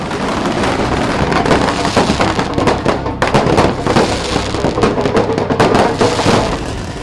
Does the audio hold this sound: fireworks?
yes